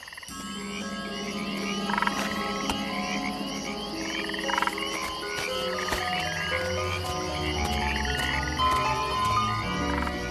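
Frogs croak at a lagoon in an African wild setting, a dense chorus of many repeated croaks and trills layered near and far, continuous and loud.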